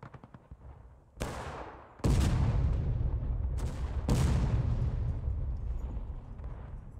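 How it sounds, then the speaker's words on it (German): Cannon booms from artillery firing canister shot in a Civil War battle game, several heavy blasts in a row, each sharp crack rolling into a long rumbling decay, loud and close. "Ich glaube, die Artillerie hat gerade mit Canister geschossen."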